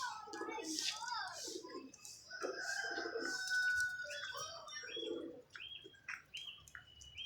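Pigeons cooing in soft, low repeated phrases mixed with small chirps and tweets nearby, with someone speaking close by throughout.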